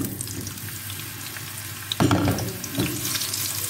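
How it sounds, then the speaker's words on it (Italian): Eggplant pieces land in hot oil in a pan, setting off a sudden close sizzle that surges, then continues steadily with a second burst. "Facciamo soffriggere a fuoco vivo per qualche minuto"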